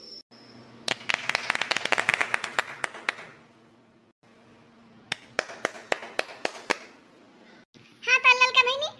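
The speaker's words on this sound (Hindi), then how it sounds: "तो भाई और बहनों पहले तालियों से स्वागत कीजिए ललका जी का।" Bursts of crowd clapping welcome a singer onto the stage in an Awadhi cartoon, two rounds of applause with a pause between, followed by a high child-like voice speaking.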